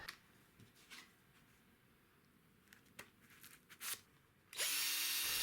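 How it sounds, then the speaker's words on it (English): A drill fitted with a 3M polishing pad attachment works on plastic. After quiet rustling and a few short clicks and whirs, it starts running as a sudden loud, steady whir that continues to the end. "It turns out it's just some various polishing pads and this drill attachment."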